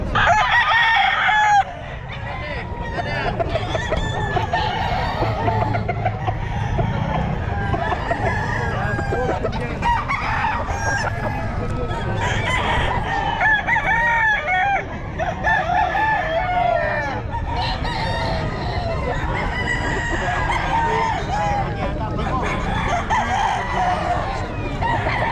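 Young roosters (stags) at a pet market crow repeatedly and overlap one another, loud and close, with clucking fowl and a busy market hubbub filling the background throughout.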